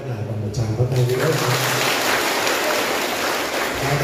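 Congregation applauding after a Catholic Mass at a parish in Vietnam, a steady wash of clapping filling the room, rising after a brief spoken moment at the start.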